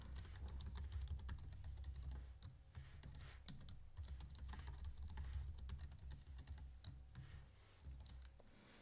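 A password is typed on a computer keyboard in a quiet room, with rapid, uneven keystroke clicks running continuously at close range and no voices.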